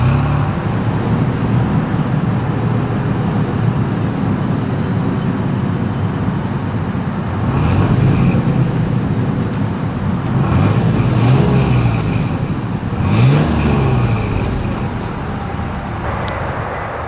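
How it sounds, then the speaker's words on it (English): A 2022 Toyota 4Runner SUV engine idles steadily, then revs up in several short bursts, a deep exhaust rumble swelling and falling back between blips. "As always, here is that exhaust clip."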